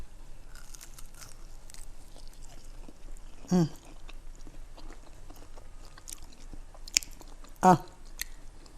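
Quiet chewing and crunching of an air-fried chicken wing, with two louder crunchy bites a few seconds apart, close to the mic amid faint background noise.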